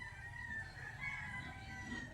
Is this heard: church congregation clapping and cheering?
no